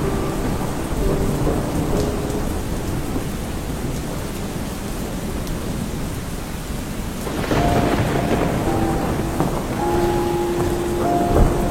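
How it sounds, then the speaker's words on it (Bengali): Steady heavy rain pours throughout while rumbling thunder rolls underneath, swelling louder in the second half. "বাইরে তো প্রচুর বৃষ্টি হচ্ছে"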